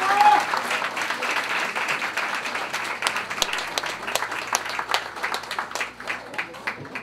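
Audience applause at a year-end variety troupe show, welcoming a performer onto the stage: steady, dense clapping from a crowd that carries on throughout and thins slightly toward the end.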